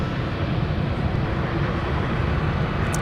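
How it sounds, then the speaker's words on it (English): A Boeing 757 airliner taxiing at Minneapolis–Saint Paul airport gives off a steady, broad jet rumble, moderately loud and continuous throughout with no voices over it. "I think we might have a 757 here"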